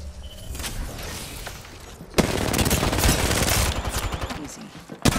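Video game gunfire in a building-destruction match, sustained rapid bursts of shots with a louder volley kicking in midway and continuing to the end.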